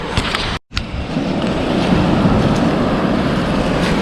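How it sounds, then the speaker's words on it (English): Rough ocean waves at a stony beach in Brighton make a loud, continuous roar of surf and wind noise, with a brief dropout near the start and no speech. "It's a rough bit of ocean that, isn't it?"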